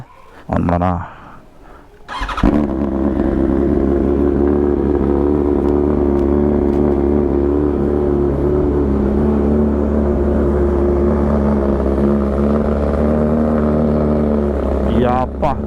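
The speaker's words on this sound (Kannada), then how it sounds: "full system Austin racing exhaust ಭಯಾನಕ ಲೌಡ್ ಇದೆ" A BMW M1000RR superbike with a full-system Austin Racing exhaust fires up with a short blip, then holds a loud, deep, steady rumble for many seconds, close by and without talk.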